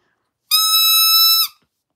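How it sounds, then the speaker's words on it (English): A dog whistle blown once, a single sustained high-pitched tone about a second long, loud and close, with silence before and after. "I can probably call her with my whistle."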